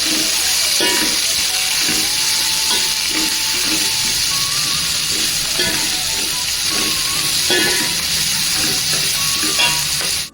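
Ginger and garlic sizzle and fry in a hot pan for a home-cooked mixed vegetable rice, a steady loud hiss with the repeated scrape and knock of a stirring spoon throughout.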